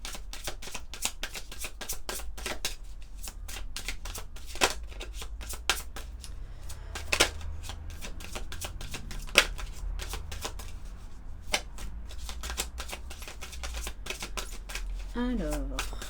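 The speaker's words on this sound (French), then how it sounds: "on va prendre quelques cartes pour voir au niveau général" Oracle cards being shuffled by hand, a long run of quick papery riffles and snaps with steady rhythm, close up, with a voice speaking French over it.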